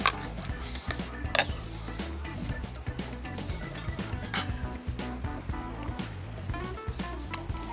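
A shrimp marinade made with gochujang and parsley is stirred in a bowl, giving soft scraping and clinking from the utensil against the dish. The sounds come at irregular intervals, with a few brighter clinks and quiet background noise between them.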